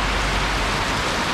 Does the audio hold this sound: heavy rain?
yes